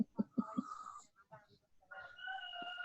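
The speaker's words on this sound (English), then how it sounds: "your rooster's going off its head again" A backyard rooster crows in the morning: several clucks first, then a long tonal crow, heard fairly close but at modest volume with a faint voice nearby.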